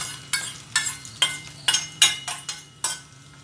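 A utensil stirs and scrapes ingredients roasting in ghee in a pan for jaggery pongal, about seven evenly spaced scraping strokes, close and clear with no talking.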